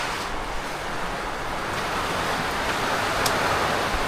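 Heavy rain pours down at night around a house with a leaking roof, a dense, even hiss that holds steady throughout with no voices.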